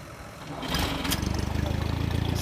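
A Massey Ferguson 135 tractor's diesel engine cranks and catches, then settles into a steady, close, rhythmic idle with regular low pulses.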